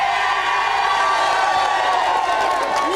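A studio audience at a live breakfast television show cheers and whoops in a steady, sustained wash of crowd noise.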